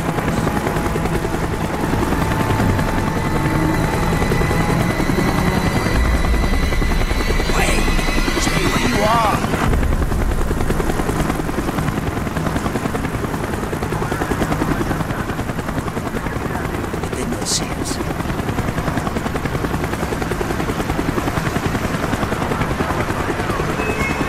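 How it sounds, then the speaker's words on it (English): A helicopter in the Call of Duty: Black Ops video game churns loudly and steadily throughout, its rotor drone filling the scene alongside game effects and occasional brief bursts, with no speech over it. "The chopper is coming around again."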